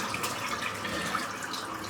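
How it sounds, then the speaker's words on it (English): Water dripping and trickling steadily from a soaked shaving brush, a soft continuous wet patter close by with no talking. "And the water's dripping out of it."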